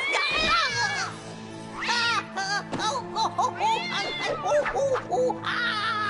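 A cat meows in short plaintive cries, mixed with excited voices and a bit of laughter close by.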